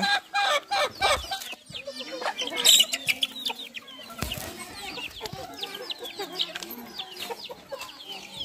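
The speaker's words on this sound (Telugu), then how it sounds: "కోళ్ళు అయితే చూడండి ఎన్ని ఉన్నాయి ఇక్కడ" Several chickens cluck and squawk close by in a busy, overlapping chorus in a tribal village in dense forest, with scattered sharper calls rising above the steady flock noise.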